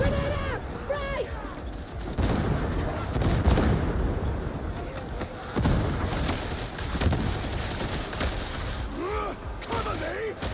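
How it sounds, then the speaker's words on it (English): Grenade detonation during a firefight in Warhammer 40,000: Darktide, heavy thudding blasts amid rapid gunfire bursts, with voices talking over the battle noise. "Grenade out."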